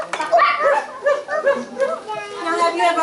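A storyteller at a library event imitates a dog barking with her voice, giving a run of close, loud bark-like yelps and woofs over about three seconds, with voiced, speech-like tone throughout.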